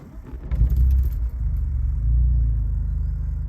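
An already warm car engine cranks and catches, settling into a deep, steady idle rumble close by, loud and low with a brief dip as it fires up, and no talk over it.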